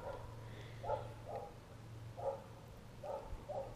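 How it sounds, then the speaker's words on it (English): Several dogs barking outdoors on a cold day, a few scattered barks and yips spaced out over a low steady hum, moderately distant. "You made all the dogs upset."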